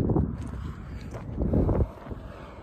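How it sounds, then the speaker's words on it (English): Wind on a Pacific Crest Trail hike buffets the microphone in rough, rumbling gusts, loud and close, rising and falling in uneven bursts. "the wind changed direction"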